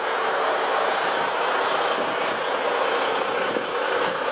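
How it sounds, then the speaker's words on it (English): A 16-litre diesel engine in a Kenworth truck runs steadily under the bonnet, a constant close broadband drone with no speech. "16-litre diesel engine under the bonnet"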